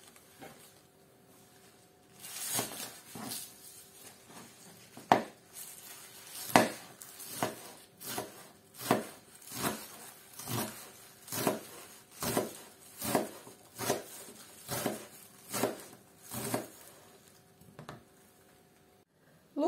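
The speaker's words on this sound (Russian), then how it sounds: "Сейчас будем нарезать лук." A knife chops fresh green onions on a cutting board in a home kitchen, with a steady run of about fifteen crisp, evenly spaced cuts, close and fairly quiet, and no one talking.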